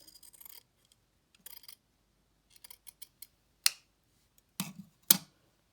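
Scissors snip through fabric for an octopus craft in a few crisp, close cuts spread out among soft rustling and quiet gaps.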